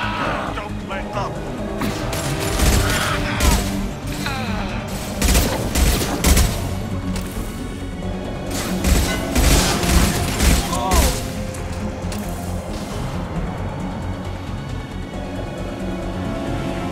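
Gunfire from a firefight in the video game Mass Effect 2: repeated bursts of loud rapid shots and booms over a constant background, with voices speaking during the fight.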